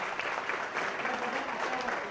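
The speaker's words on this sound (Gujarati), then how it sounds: "જોરદાર તાળીઓથી આપણે આ" Loud, steady applause from an audience at a community felicitation event in a Mumbai hotel banquet hall, dense and continuous throughout.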